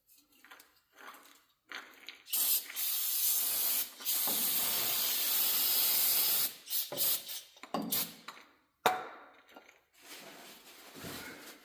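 Aerosol spray hisses in several bursts onto a truck frame during a fuel filter change on a 2001-2016 Duramax, with long sustained sprays broken by short squirts and pauses, close and fairly loud.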